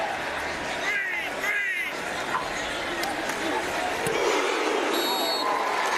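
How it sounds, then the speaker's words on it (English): A stadium crowd roars at a college football game between West Virginia and UCF, a continuous loud crowd noise under the commentators' steady talk. "I love the crowd. I love the crowd. Boom, right on cue."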